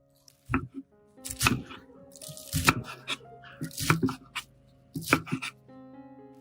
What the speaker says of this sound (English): Chop the lettuce.